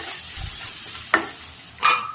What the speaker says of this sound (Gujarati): હવે સારી રીતે આપણે એને મિક્સ કરી દઈએ.